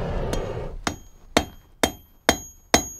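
A hammer strikes a bright-yellow-hot iron bar on an anvil to taper its end, six sharp ringing blows spaced about half a second apart, close and loud, with a metallic ring after each hit.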